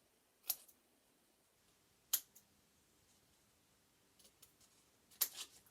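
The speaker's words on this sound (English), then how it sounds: "Cut out on the lines until you've cut out the entire coyote" Scissors cutting out a paper coyote, a few short crisp snips spaced apart in a quiet room, close and fairly faint.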